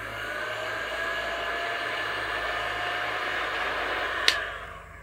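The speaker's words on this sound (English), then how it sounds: "What I'm going to do is take my heat gun and I'm going to heat up the aluminum case" A heat gun blows hot air onto an aluminum GoPro case, a steady close whooshing hiss with a faint whine that stays constant and then cuts off near the end.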